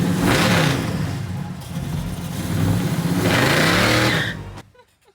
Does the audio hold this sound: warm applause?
no